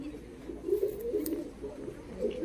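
Colour giribaz pigeons, two pairs kept for sale, coo softly in short, repeated, low throaty phrases, faint and close by.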